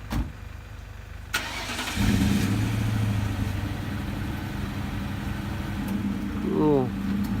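A customer's car engine idles and revs as it pulls out of a garage, a steady mid-pitched engine rumble that swells near the end, with some voices in the background.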